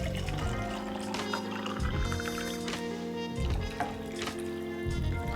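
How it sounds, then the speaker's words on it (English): Water poured from cans into a pot for a vegan one-pot orzo and meatballs meal, a steady gurgling splash that continues for several seconds under a constant low hum. "just take the cans and fill them with water."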